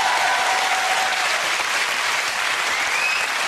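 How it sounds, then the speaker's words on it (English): Studio audience applause on a family game show, a dense, steady wash of clapping from a large crowd that holds at an even, loud level throughout with no voices over it. "Give them a big round of applause."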